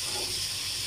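Fish frying in a pan while being flipped piece by piece: a steady, close, bright sizzle and hiss of hot oil, alone without talk.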